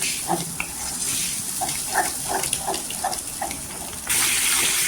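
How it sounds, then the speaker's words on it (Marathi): A glass of water is poured into a bangda mackerel curry gravy in a pot, heard as a steady splashing gush with small bubbling pops, growing louder toward the end. "मी इथे 1 ग्लास पाणी टाकलेलं आहे"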